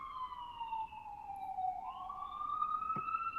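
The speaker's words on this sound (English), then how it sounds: "I'm just waiting for the ambulance to go by." An ambulance siren wails in the distance outdoors, one slow falling-and-rising sweep that stays faint and steady as it passes by.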